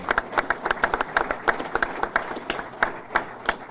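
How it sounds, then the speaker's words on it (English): A modest audience at a State of the City address gives a round of applause of distinct, individually audible claps, fairly close and steady for nearly four seconds, with no speech over it. "If we can give them a round of applause for what they do."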